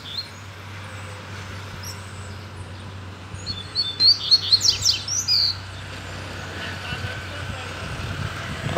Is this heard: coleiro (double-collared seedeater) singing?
yes